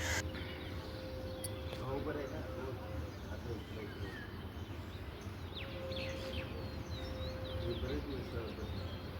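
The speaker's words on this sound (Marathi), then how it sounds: "शंखचा आवाज पक्ष्यांचा किलबिलाट आणि हे सगळं सकाळी सकाळीच ऐकायला भेटतं" Scattered birds chirp and tweet faintly in the morning over a steady low background hum, calls overlapping throughout an outdoor ambience heard from a terrace.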